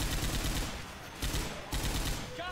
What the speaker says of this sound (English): can Nick and Michelle quit shooting us